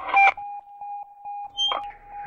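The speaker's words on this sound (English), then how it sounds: "That's the fire alarm." Fire alarm in the Space Station 13 video game, a steady electronic tone pulsing in short repeated beeps, fairly quiet, with a few brief louder bursts of game noise around it.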